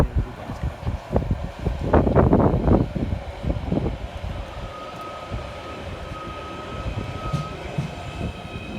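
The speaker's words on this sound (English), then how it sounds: "Our train is literally the next train in" A Merseyrail train pulls into a station, its rumble and clatter swelling loudest early and then easing into a steady hum, with wind buffeting the microphone.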